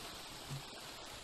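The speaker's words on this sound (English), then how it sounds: "I think we're gonna have to take the waterfall." A waterfall in the video game Helium rushes as a constant, dense, soft roar of falling water with no talk.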